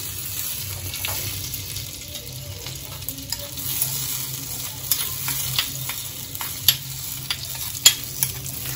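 Chopped garlic for a veg and chicken sandwich sizzles softly in a pan while a spoon stirs it. Scattered scraping clicks grow sharper and more frequent toward the end.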